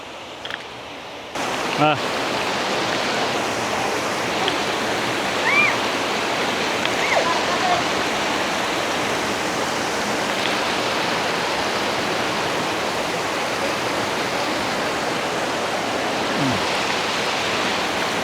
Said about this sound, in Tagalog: dito mayroong ilog o mini falls akong natatanaw dito.